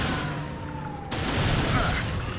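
Gunfire in TimeSplitters: Future Perfect, a steady fusillade of rapid shots that continues throughout and grows louder and denser partway through.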